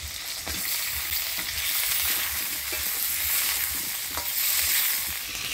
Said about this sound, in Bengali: ফোড়নের তেলের মধ্যে আলুগুলো আমি ভালো করে নাড়াচাড়া করে নিলাম